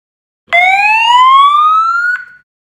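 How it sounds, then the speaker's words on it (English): A Homelux SL905 alarm siren on its fire alarm setting gives one loud, close, rising electronic wail lasting about two seconds, with no other sound around it. "The third dip switch is set fire alarm."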